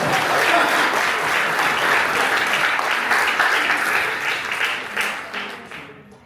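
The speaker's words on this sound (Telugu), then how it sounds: "Okay? చప్పట్లో గట్టిగా." A church congregation at a Good Friday service applauds loudly with dense, sustained clapping that fills the space and fades toward the end.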